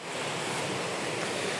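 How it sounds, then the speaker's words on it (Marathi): Steady broadband rush of a waterfall flowing in a forest, continuous and even with no breaks, fairly close and filling the whole moment with no voices over it. "हा बघा धबधबा आहे खाली दिसतोय का"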